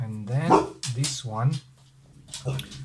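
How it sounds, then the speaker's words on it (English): A female dog afraid of thunder gives short barks and whimpering yips indoors, several close, strained cries in quick succession while someone talks over them. "that's my dog. She's very afraid of thunders."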